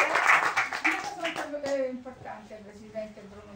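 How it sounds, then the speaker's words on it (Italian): An audience at an Italian book award ceremony claps for a prize winner, a burst of clapping that fades quickly as voices and music-like tones take over. "Un altro applauso a titolare che"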